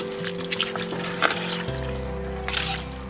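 Water poured into a pot of vegetable biryani being cooked in a Sri Lankan village kitchen, a steady close trickle and gurgle that deepens as the pot fills, with no talk.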